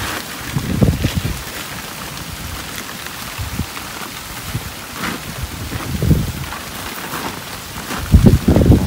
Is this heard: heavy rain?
yes